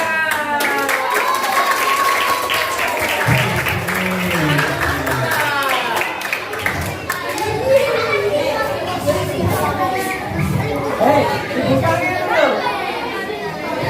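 A class of children applauds at a school celebration of the Prophet's birthday, with scattered clapping mixed into lively chatter and children's voices, while an adult talks over the noise.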